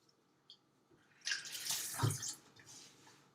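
Hands washed under a running faucet: a short burst of splashing tap water lasting about a second, rising suddenly after a few faint clicks and fading away, close and alone.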